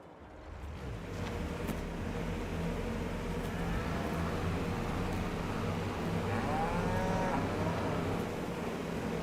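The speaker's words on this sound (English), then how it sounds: "It's just cows and sheep" Cows mooing in a farm video game, set against a steady, dense background of livestock and ambient noise that stays loud throughout, with drawn-out lowing calls rising above it.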